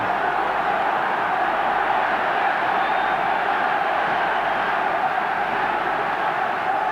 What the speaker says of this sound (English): I haven't heard cheering like this for the All Blacks for years